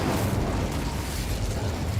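An Incendio fire spell cast in Hogwarts Legacy gameplay, a dense, loud whooshing roar of flame that holds steady for about two seconds.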